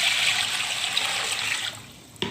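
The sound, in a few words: water poured over chicken in a pot for soup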